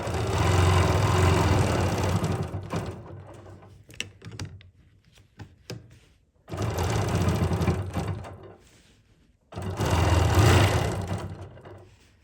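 A sewing machine stitching decorative stitching on fabric runs in three sustained bursts of steady motor hum and needle chatter, with quieter pauses between runs.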